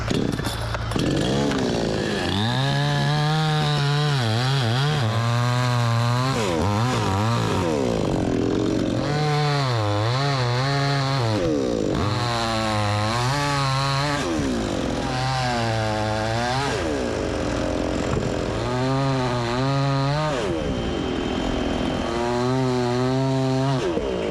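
A $159.99 chainsaw bucks firewood, its motor surging into loud, repeated cuts of a few seconds each, with idling pauses between them and no talk.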